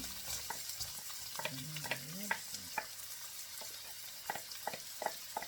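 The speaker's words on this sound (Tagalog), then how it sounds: "Huwag natin patagalin ang bawang. Tapos, ilagay din natin yung sibuyas bombay." Garlic and onion frying in a pan for adobong sitaw, a steady sizzle broken up by repeated scraping stirs, close and fairly loud, with no one talking.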